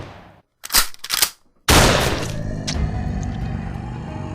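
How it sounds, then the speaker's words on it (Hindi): Gunfire in a horror story scene, heard as a couple of sharp bursts followed by one loud blast with a long rumbling tail. "उसने उस रहस्यमय जीव पर निशाना साधा और गोली चला दी"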